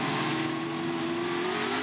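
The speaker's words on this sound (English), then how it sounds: "The birds scatter as 50-odd cars come down pit straight here at the start." A dense roar of touring race car engines at a race start at Bathurst, loud and sustained, with a rising whine as about fifty cars accelerate together down pit straight past the listener.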